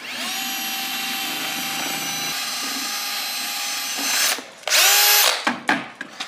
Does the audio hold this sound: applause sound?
no